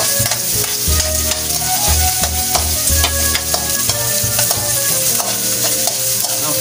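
Chopped ginger, crushed before slicing into small pieces, sautés in a pan while being stirred, giving a steady, close sizzle with scraping stir strokes throughout, alone without talk.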